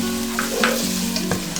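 Tomatoes sautéing in a pan with ginger garlic paste for shahi chole, giving a steady close sizzle with a few soft spoon scrapes and stirs and no talking.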